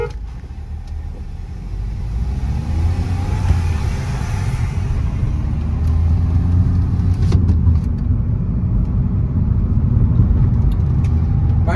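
Two cars drag racing side by side, a 1.0-litre Volkswagen Virtus against a 1.5-litre Hyundai i20, with a loud, steady engine roar and road rumble that builds and holds throughout, no talk.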